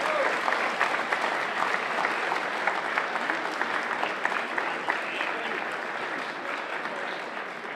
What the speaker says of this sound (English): can you give a big round of applause for the new senior singles champion from Westmeath, Robbie McCarthy.